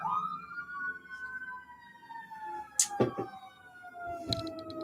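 Emergency sirens pass by outside a house, a long wailing tone that sweeps slowly downward as the vehicle moves away, with a few sharp knocks and thumps from inside the room; no one speaks.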